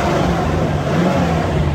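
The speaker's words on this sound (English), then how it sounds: "Revs great." A Corvette's engine with a manual stick shift revs in a steady, loud, continuous drone with a low, even hum and no pauses.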